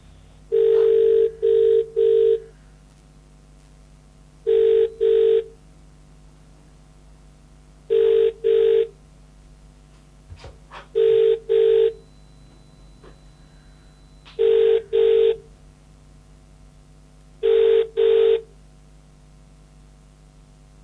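A UK telephone line rings while a call to an estate agent's branch, connected through Rightmove, waits to be answered. Six clear double-ring bursts come at a steady pace over a low, constant line hum, with no talk.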